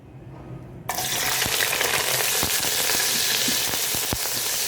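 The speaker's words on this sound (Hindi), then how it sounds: "इनको अब मैं यहाँ पे फ्राई कर लूँगी जब तक इनका जो कलर है वो ब्राउन ना हो जाए" Chopped onions drop into hot oil in a pot, setting off a sudden, loud, continuous sizzle that stays steady after a brief quiet moment.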